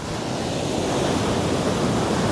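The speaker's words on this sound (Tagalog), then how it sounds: "Ang lakas ng hampas ng alon." Strong ocean surf pounds a beach at Botolan, Zambales in the early morning, a dense continuous roar of crashing waves filling the air with no voices.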